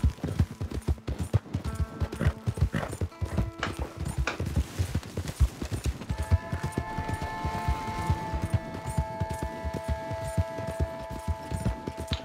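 Horse hooves in the video game Red Dead Redemption 2: a steady, brisk clip-clop of a moving horse, fairly close, joined partway through by sustained tonal game music.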